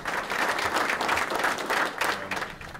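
Audience applause at an outdoor groundbreaking ceremony for a GE Aviation materials factory in Huntsville, steady clapping from a sizable crowd filling the whole moment at moderate loudness.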